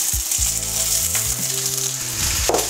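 Chopped onions frying in a hot pan for a beef coconut curry, a steady loud sizzle with soft stirring and scraping sounds, no talking.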